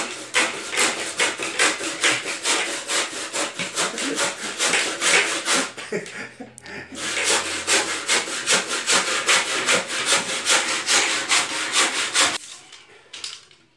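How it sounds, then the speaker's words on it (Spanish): A hand saw cuts through a cheap wooden board for a budget loft build, with fast rhythmic rasping strokes close by, a brief pause midway, then steady sawing again until the cut finishes. "Me encanta serruchar a mí."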